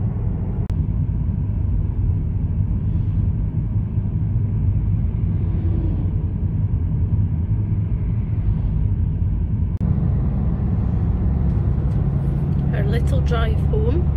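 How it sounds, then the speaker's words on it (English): Steady low engine and road rumble from a car cruising along a quiet country road, continuous and close throughout, with a voice humming or singing over it and a brief brighter chirp near the end. "Driving in my car."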